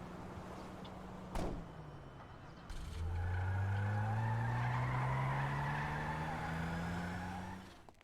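A chrome-finished car in GTA V drives off: a slow, steady engine drone rises in pitch with gear-like sweeps after a brief thump, loud and continuous, with no speech.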